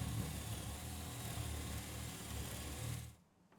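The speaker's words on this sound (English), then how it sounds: "Next, drill a pilot hole for the saw blade to start in." Power drill boring a pilot hole through a bathroom subfloor for a shower drain, a steady loud whirring drone that runs for about three seconds and then cuts off abruptly.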